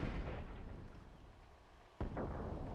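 A dreadnought exploding in Dragon Age Inquisition, a deep rumbling boom fading out, then a sharp second blast near the end, loud and close, no talking.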